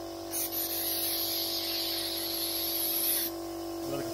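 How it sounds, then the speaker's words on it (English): A compressor-fed spray gun with an adjustable nozzle, set to about 4 bar, sprays primer in test patterns: one steady, loud airy hiss lasting about three seconds, then cutting off. "Adjust the nozzle, spray some test patterns"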